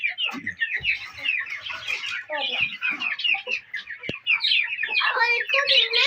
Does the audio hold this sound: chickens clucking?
yes